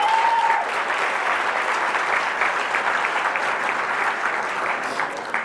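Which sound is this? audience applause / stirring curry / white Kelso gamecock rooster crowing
audience applause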